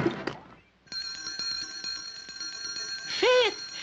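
Bells ring in a cartoon, a rapid, bright metallic trill that holds steady for about two seconds and then ends in a brief higher ringing burst after a short pause.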